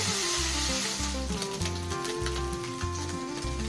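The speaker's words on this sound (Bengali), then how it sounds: "আর এদিকে মা মাছগুলো ভাজা করছে।" Small fish frying in oil give a steady, crackling sizzle that goes on throughout, with a low tonal background underneath.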